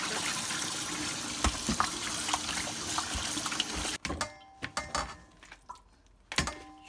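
Cold tap water runs steadily over spare ribs being rinsed in a sink for black bean spare ribs, a continuous splashing flow that cuts off midway, followed by sparse drips, clicks and handling knocks.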